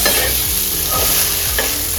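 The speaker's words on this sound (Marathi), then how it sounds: "बघू शकता आता इथं किती छानपैकी मसाला तळ तळला गेलेला आहे" A masala of onion, coconut, tomato, garlic and green chili fries loudly in a pan, the spoon scraping through it in repeated strokes over a continuous close sizzle.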